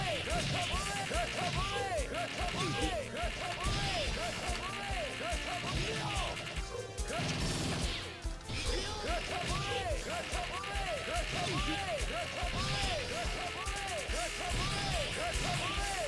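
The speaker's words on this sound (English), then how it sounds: "there's only one way to solve this, and this is with Clacker volleys" Clacker volley attacks crack repeatedly in a JoJo's Bizarre Adventure fighting game, dense smashing hits layered over continuous game music and effects, with a brief dip midway.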